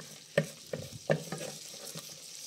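A spoon stirs cornmeal through hot fat in a pan, giving a few sharp scraping knocks over a steady low sizzle, close and moderately loud.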